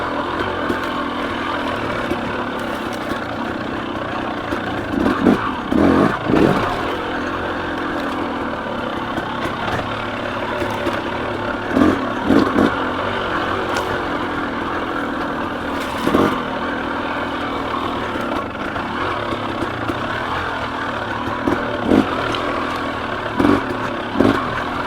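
A KTM 300 XC two-stroke dirt bike rides single track, its engine droning steadily at close range with repeated short revving bursts and braking lulls as it picks through the trail.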